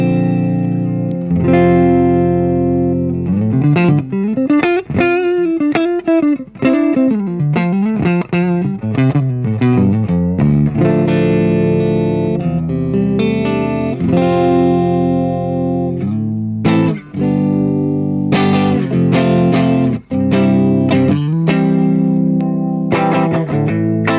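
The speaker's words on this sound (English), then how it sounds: "It's just the ACS1 and the guitar." Electric guitar running straight into a UAFX ACS1 amp simulator with no pedals, played as continuous melodic lines and strummed chords, loud and close with a clean-to-slightly-driven tone, alone without voices.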